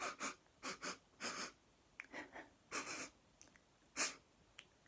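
A voice imitates sniffing: a series of short, quick nasal sniffs in bursts, close and soft, with brief pauses between groups.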